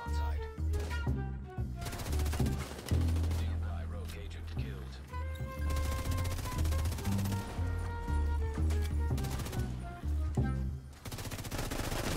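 Gunfire in The Division's Dark Zone: rapid automatic bursts and single shots crackle in quick succession, loud and close, mixed with game music and frequent player chatter.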